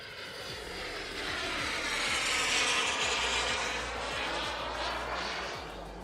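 Twin turbine engines of a radio-controlled jet whine and roar at a distance with thrust vectoring engaged, a steady jet rush that swells in the middle and eases toward the end, with no talk over it.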